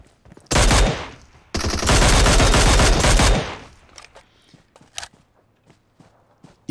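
Loud, rapid automatic gunfire from PUBG Mobile hammers out in two dense bursts, followed by scattered sharp single shots and soft movement noises in a quieter stretch.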